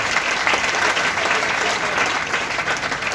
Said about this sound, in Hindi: इस बात पे तो ताली होनी चाहिए।